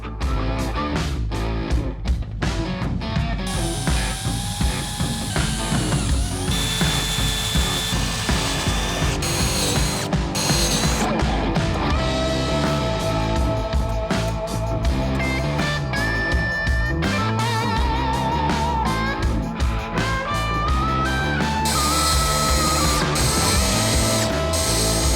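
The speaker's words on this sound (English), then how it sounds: "I'm gonna go ahead and I'm gonna drill all the pilots, top and bottom." A power drill whirs in repeated short bursts, boring pilot holes top and bottom in airplane parts, with ratcheting clicks and clattering handling noises close by throughout.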